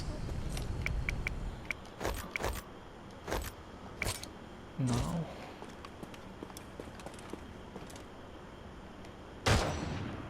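Scattered sharp gunshots in the video game Naraka: Bladepoint crack at irregular intervals amid soft footsteps and background noise, with one louder shot near the end.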